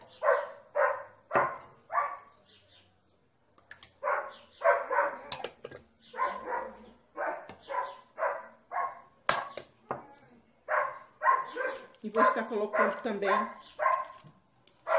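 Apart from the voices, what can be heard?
dog barking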